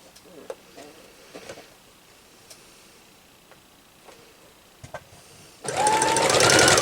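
A sewing machine stitches an hourglass quilt block, starting abruptly after a stretch of quiet small clicks and then running loud, fast and continuous up close to the end.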